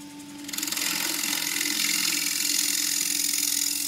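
Wood lathe turning a bowl from a broken lid, with a shear scraper held flat on the rest; a motor whir starts up, then a steady rough scraping hiss continues close and alone.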